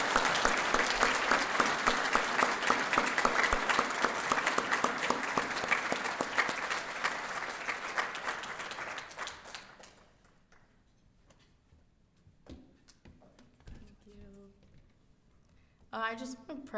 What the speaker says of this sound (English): Let's give a big round of applause for Sarah Lira.